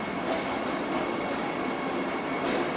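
A Vande Bharat express on the Mangalore to Madgaon line in coastal Karnataka makes a steady, loud rail roar with faint wheel noise throughout, no voices over it.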